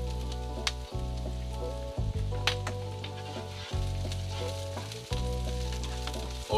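Squid dropped into a hot pan of olive oil for chilli garlic squid sizzles and fries loudly and steadily, with several short breaks and fresh bursts as pieces go in and get stirred.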